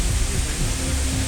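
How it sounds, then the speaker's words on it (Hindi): The Parvati waterfall on the Shrikhand Kailash mountain trek sends up a dense, continuous roar of rushing water at close range, broadband and unbroken with low rumbling surges. "पानी का फ्लो कितना तेज है झरने से, आपको ये ऐसे समझ आ जाएगा।"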